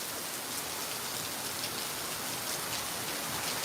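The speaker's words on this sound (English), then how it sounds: "we still have very heavy rain falling" Very heavy rain pours down steadily during a storm, a dense, unbroken hiss of falling water with no voices over it.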